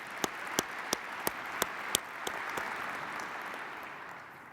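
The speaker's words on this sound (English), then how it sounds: "Give him a round of applause" Audience applause at a military address, a few sharp early claps rising into a steady, moderately distant wash of clapping that holds to the end.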